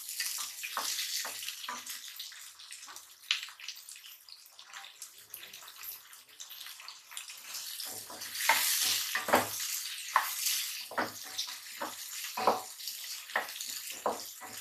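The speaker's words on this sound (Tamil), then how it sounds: "நல்லா மிக்ஸ் பண்ணிக்கோங்க." Potatoes being stirred in hot oil in a pan for Tamil dry fish curry, with a steady sizzle and repeated scraping and stirring strokes, close and fairly quiet, no talking.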